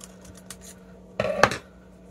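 Scissors snip through a paper circle during card making from scrap paper, two quick close cuts with a crisp rasp after a quiet stretch of faint handling noise.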